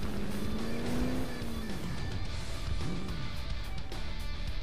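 A car races in the Cobra 11 Crash Time video game, engine revving and shifting pitch as it speeds along, with tire and crash noises over a constant loud drone and no speech.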